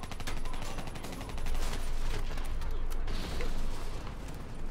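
Call of Duty Black Ops 3 firefight aimed at a VTOL aircraft, with dense, continuous rapid automatic gunfire rattling throughout at close range and no clear speech on top.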